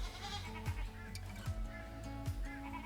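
A goat bleats several times in short, wavering calls at a steady spacing, close and fairly loud over a low constant background hum.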